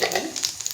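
Cumin seeds sizzle in hot oil, a short burst of close crackling and popping spitting from the pan.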